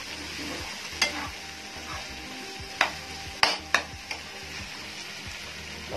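Keema (minced meat) cutlet filling sizzling steadily in a pan for kheema aloo patties, with a few sharp spoon scrapes and taps against the pan over the continuous fry.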